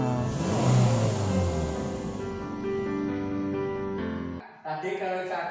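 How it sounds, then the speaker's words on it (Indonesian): A car engine with an idle speed control fault being revved, a steady mid-pitched hum that holds, then drops off suddenly and returns at a different note, heard close with some talking underneath. "Sekarang kita coba kita gas."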